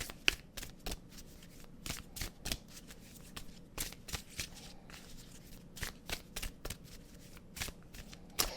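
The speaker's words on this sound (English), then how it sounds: "I'm going to take another card." A deck of tarot cards is shuffled and handled during a reading: a steady run of quick, close riffling and flicking card sounds, with no talk over them.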